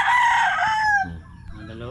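A single rooster crows once, loud and near, its call falling in pitch before trailing off into softer background clucking.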